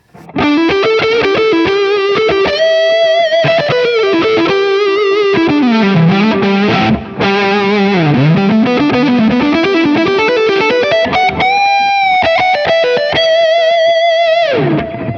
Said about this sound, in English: Kind of some non-typical Ibanez tones, like heavier gain tones.